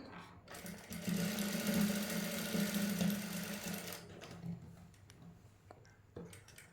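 A sewing machine stitches lace onto a dress hem in one sustained, fairly loud run of a few seconds, then gives way to quieter handling sounds.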